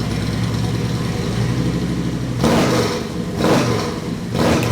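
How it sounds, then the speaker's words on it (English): A Harley-Davidson Electra Glide Classic motorcycle engine idles with a deep, loud rumble, then revs up in three swelling bursts with steady idling between them. "Number 8. The Harley-Davidson Electra Glide Classic."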